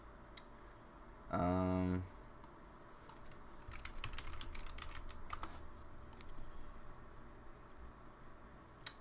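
Computer keyboard typing, a cluster of quick, light key clicks in the middle, close and fairly quiet, following a brief tonal beep near the start, with soft background noise.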